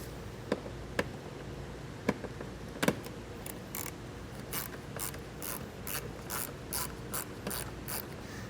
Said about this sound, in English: We're going to be removing some T25 torque screws, and it's going to be on the inside of the wheel well here.